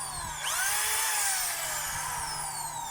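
A DeWalt DWD024 1/2-inch hammer drill with a wiring fault whirs loudly nearby, its high motor whine rising then gradually winding down over a few seconds.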